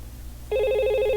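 A Packet Tracer VoIP simulation phone begins ringing partway in, a steady electronic warbling ring tone that continues to the end, alone and fairly loud over a low hum.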